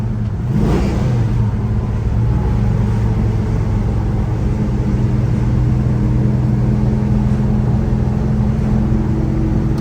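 A 1967 Chevelle SS 396 with a four-speed runs along at a steady cruise, its low engine drone and road rumble holding constant and loud throughout, with a brief rise in pitch near the start.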